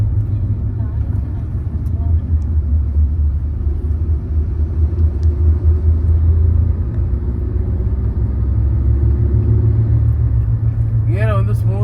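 A car cruising in fourth gear on a highway, steady engine drone and road rumble close by and continuous throughout, with a brief higher whine near the end.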